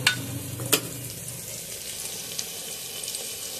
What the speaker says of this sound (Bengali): পেঁয়াজটা একটু লাল লাল ভাজা হয়ে গেলে আমি মটনটা দিয়ে দেবো